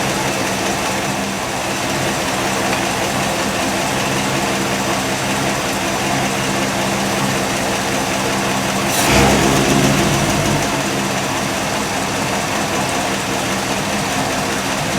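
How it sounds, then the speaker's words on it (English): A 1955 Buick Century engine, its carburetor freshly rebuilt, idles steadily at a low, slightly uneven idle, with a brief louder rush of noise about two-thirds of the way through. "I haven't been able to get the idle way low. I'm still running about 580 to 600."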